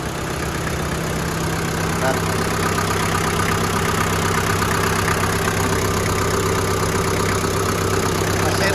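A green 1996 Daihatsu Taft Rocky 4x4 idles with a steady, close, low mechanical hum and a constant tone throughout, while someone says a single short word over it.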